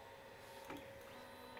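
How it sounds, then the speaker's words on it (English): A Creality Ender 2 3D printer homing its axes gives a faint steady motor whine with a brief stepper movement burst partway through, close and quiet. "So first let's home the printer."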